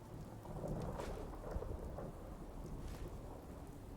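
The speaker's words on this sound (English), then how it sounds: "Yeah, it's raining." Rain falls in the Fallout 4 video game world, a steady soft hiss of raindrops with low rumbling thunder and some wind, faint and continuous with no voices.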